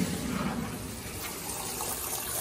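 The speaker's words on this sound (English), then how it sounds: "And now I'm gonna start the flushing back up." Water rushes through a hose as a water heater tank is flushed, making a steady broadband gush that stays even and moderately quiet throughout.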